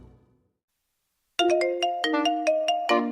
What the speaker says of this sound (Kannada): ನಿನ್ ಫ್ರೆಂಡ್ ಫೋನ್ ಮಾಡಿದ್ಲು ನೋಡು